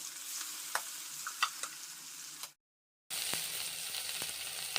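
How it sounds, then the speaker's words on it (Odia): Prawns fry in hot oil with a steady, close sizzle and occasional stirring clicks; the sound cuts to brief silence midway, then the frying resumes. "ଚିଙ୍ଗୁଡ଼ି ଭଜା ଡନ୍।"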